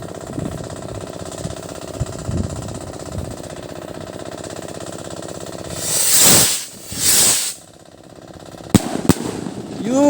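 Slow fuse on a homemade aerial firecracker burns with a long steady hiss, swelling into two loud whooshing bursts, then a few sharp pops close by.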